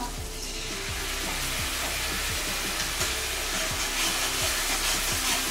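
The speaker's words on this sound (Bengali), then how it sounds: "আদাটাকে কষিয়ে নেওয়ার জন্য জল দিলাম।" Ginger with cumin and turmeric powder cooks in a pan with added water, giving a continuous hissing sizzle with a faint repeating rhythmic tick underneath and no talking.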